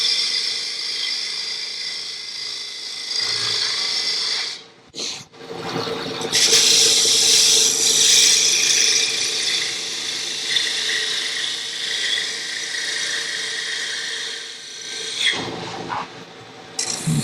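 A woodturning gouge, a 3/8 inch tool, cuts into a spinning wooden lidded box on a lathe, giving a loud, continuous scraping hiss that breaks off in short pauses and then resumes.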